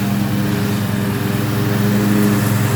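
Gas leaf blower running steadily while leaves are blown into piles during a winter lawn and leaf clean-up at a property. It is a continuous, loud, close engine drone that never lets up, with no talking.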